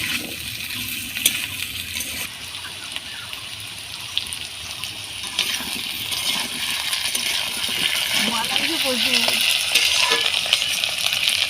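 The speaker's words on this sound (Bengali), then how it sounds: "আলুটা এইভাবে সুন্দর করে ভেজে নেব" Potatoes and onions frying in oil in a pan, a steady close hiss and sizzle that grows slightly louder, broken by occasional clinks of a spoon against the pan, with no talking.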